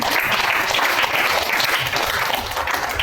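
A congregation at a church anniversary service claps in a dense, sustained round of applause, loud and even, with no talk over it.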